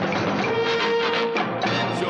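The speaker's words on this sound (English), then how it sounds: "the breaking news sounder that we use" A short news-show sounder jingle plays alone, a bright sustained tone with a steady synthesized bed, clear and uninterrupted for about two seconds.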